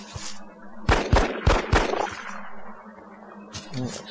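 Gunfire in the video game XCOM: four sharp, loud shots in quick succession, each with a brief ringing tail, followed by quieter game ambience and a few softer clicks.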